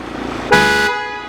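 Audi A4 car horn sounded during a workshop electrical check: a single steady honk of about a third of a second, loud and close, with no talk.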